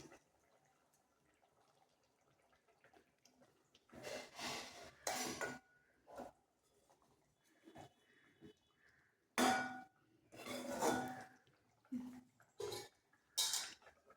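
A spoon turns egg curry made with whole cracked eggs in a pot, giving several distinct bursts of metal scraping and clinking with wet, bubbling texture, separated by near-silent pauses.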